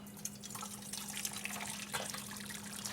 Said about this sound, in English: what you want to do is you drain your water out